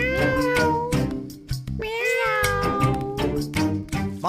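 A person imitates a cat, giving several close, loud, drawn-out meows in quick succession.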